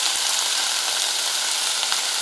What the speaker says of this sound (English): Cover it up, let it simmer a little bit.